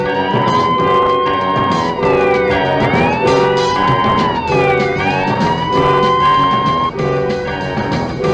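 A fire engine siren wails loudly and close, rising and falling in long sweeping cycles for several seconds over a dense rumbling background, answering a dispatch call.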